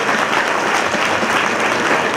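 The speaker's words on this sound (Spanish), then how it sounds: "Un aplauso también." Steady, loud applause from an outdoor crowd at a public school-supplies handout event, a dense continuous clatter of many hands filling the whole moment.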